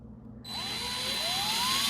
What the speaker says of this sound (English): I'm going to take my 3/16 drill bit and drill a hole